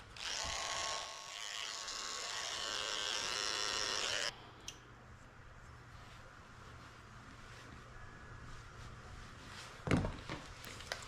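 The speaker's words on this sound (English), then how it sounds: "I'm just going to shave them out with my clipper" Electric clipper shaving mats from a mixed breed dog's ears buzzes loudly and close for about four seconds, then switches off, leaving quiet handling rustle and a soft bump.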